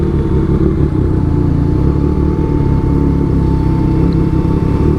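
A 2017 Triumph Street Triple 765 RS motorcycle being ridden on the road, its engine holding a steady, loud, throaty drone with constant wind rush and no break for the whole stretch.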